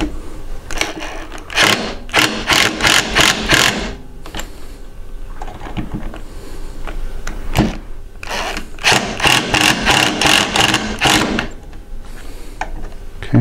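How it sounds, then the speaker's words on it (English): A power driver runs self-tapping screws into an OpenBuilds LEAD 1010 machine frame in two loud, close bursts of rapid buzzing chatter with a brief pause between them. "So got our two self-tapping screws. Run those bad boys down."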